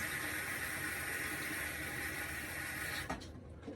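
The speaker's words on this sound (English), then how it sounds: "So I always use a water bottle for this part of the process." Water bottle sprayed onto natural hair during detangling: a continuous hissing mist for about three seconds, then it cuts off with a few soft clicks and handling noises.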